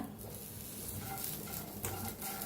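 Broken garlic pieces dry-roast in a pan while being stirred, making a steady close sizzle with scraping and rustling throughout, louder bursts near the middle.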